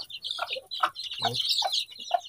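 Hens clucking close by, a busy run of short, bright clucks and calls in quick succession with no talking.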